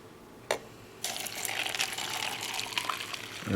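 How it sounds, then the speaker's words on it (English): Water is poured carefully onto Teavana Youthberry Wild Orange Blossom loose tea in a brewing vessel: a single soft knock, then a steady, fairly quiet splashing stream that runs on to the end. "we're going to pour in our water carefully"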